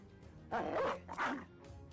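A war dog in the video game Battle Brothers barks twice in quick succession, with loud, close, gruff barks rising out of a quiet background.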